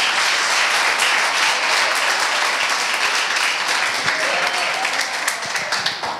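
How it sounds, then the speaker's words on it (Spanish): A church congregation gives loud, sustained applause during a sermon. The clapping stays dense and close throughout and thins slightly toward the end. "Dale un fuerte aplauso al Señor."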